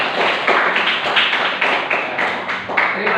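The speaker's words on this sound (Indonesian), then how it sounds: "Tepuk tangan." Students in a classroom clap together in a brief burst of applause, close and steady, with faint voices mixed in.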